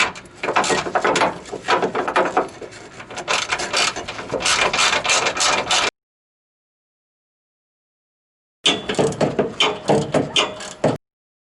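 Ratchet wrench tightening the original bolt and washer on a new bump stop of a Ford F-150 Raptor, a loud fast clicking run of about six seconds, a pause, then a shorter burst of ratcheting, with no talking.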